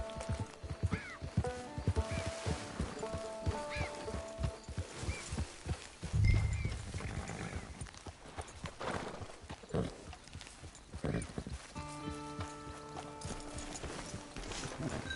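Horse hooves clip-clopping at a walk in the video game Red Dead Online, a steady run of soft hoof beats over ambient game sound, with a brief snort and some musical tones.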